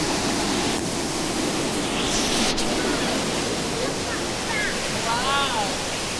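YS Falls waterfall in lush tropical Jamaica, a steady loud broadband roar of cascading water up close, with faint voices and brief exclamations under the rush.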